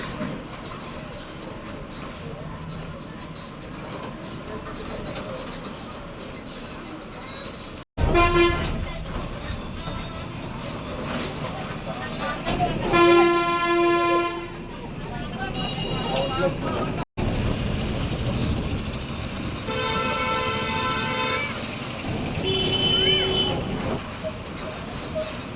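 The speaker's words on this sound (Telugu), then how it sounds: "మన బస్ ఇప్పుడే బయలుదేరింది." An APSRTC Palle Velugu village bus on the Kakinada to Kotipalli route rumbles along with continuous engine and road noise, repeated horn toots sounding at intervals, and voices talking over the ride.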